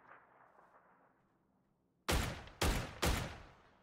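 Three sharp, loud gunshots from a shooter video game ring out in quick succession after about two seconds of faint, low background noise, each blast with a brief decaying tail.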